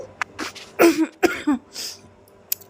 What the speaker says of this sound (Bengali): আমার কাশিটা এখনও যায়নি